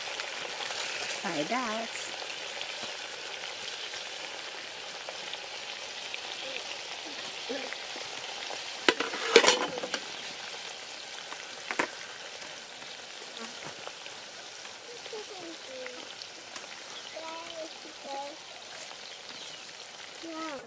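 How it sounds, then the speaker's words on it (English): Chopped onion frying in red cooking oil over a village fire, a faint steady crackle and hiss with occasional sharp pops and knocks, while a voice speaks briefly. "So I'm adding my chopped onion to the red cooking oil."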